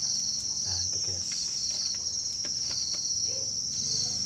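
Crickets on a cricket farm produce a dense, continuous high-pitched chirring that holds steady throughout, with faint background rustling below.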